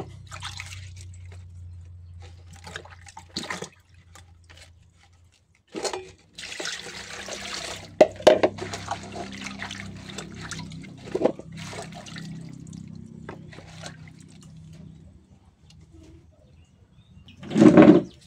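Vegetables, including alugbati greens, are rinsed under running water in a home kitchen: soft, intermittent trickles and splashes with quiet gaps, fairly faint, and a louder burst of water near the end.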